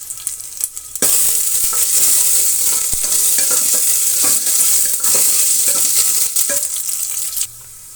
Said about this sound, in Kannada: ಸ್ವಲ್ಪ ಕರಿಬೇವಿನ ಸೊಪ್ಪನ್ನು ಸೇರಿಸ್ತಾ ಇದ್ದೀನಿ. ಇಷ್ಟನ್ನು ಫ್ರೈ ಆಗಲಿ.